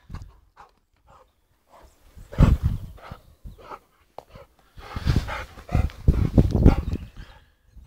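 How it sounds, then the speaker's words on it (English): A dog at a snowy kennel pants and snuffles close by in uneven bursts, with scuffling movement between the louder breaths. "One happy dog."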